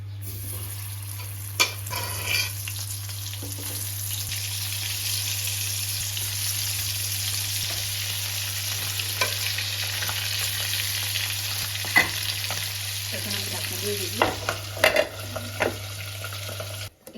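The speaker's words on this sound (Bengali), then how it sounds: "এখন আমি বেজে নিব আর একটু বেশি পরিমাণে তেল দিয়ে দিব" Koi fish frying in a generous amount of oil, a steady, even sizzle that continues throughout with occasional light clinks and stirring noises.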